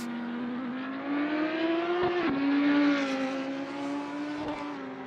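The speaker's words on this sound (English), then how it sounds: "Josh just drops the Porsche on the ground." Porsche GT3 race car dropped off its jacks and accelerating away, a steady engine drone rising in pitch with a couple of gear shifts, moderately loud and alone.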